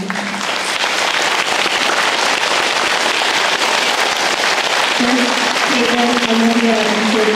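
Sustained, dense applause from a crowd at an outdoor Veterans Day ceremony in Griswold, a steady wash of clapping that holds loud throughout, with a faint voice or tone emerging near the end.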